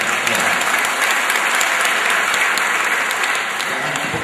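Sustained applause from a large audience at a public university lecture in Surabaya, a dense, steady wash of many hands clapping throughout, loud and close.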